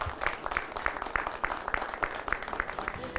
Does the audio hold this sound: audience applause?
yes